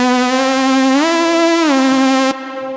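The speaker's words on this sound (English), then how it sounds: "I opened this synth called Sector Synth by Initial Audio, and I chose this sound from the sound bank that it comes with." Sustained synth tone from the Sector Synth instrument by Initial Audio, bright and buzzy and rich in harmonics, stepping up in pitch and back down before cutting off abruptly. It plays alone, loud and close.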